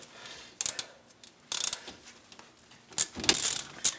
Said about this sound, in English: I have a 14 millimeter socket with my ratchet, and I'm going to loosen up the top one first